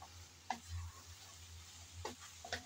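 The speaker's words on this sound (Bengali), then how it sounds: "আমি ঢেঁড়সের সাথে ভালোভাবে নেড়েচেড়ে ম্যাগি মশলাটা মিশিয়ে নিলাম" Okra is stirred with Maggi masala in a pan, giving a quiet sizzle with a few brief scraping strokes of the spoon at separate moments, and no one speaks.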